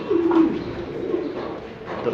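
Fancy pigeons coo softly in a low, rolling murmur, with a couple of throaty coos overlapping close by over a steady background hum.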